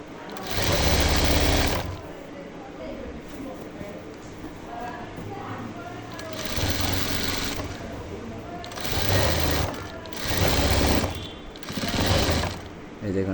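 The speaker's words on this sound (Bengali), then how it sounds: "এখন আমি রাবারের ভিতরে দুটো সিলি দিব" Sewing machine stitching elastic into a pajama waistband, its motor whirring in several loud bursts of a few seconds each, separated by quieter pauses with a person talking.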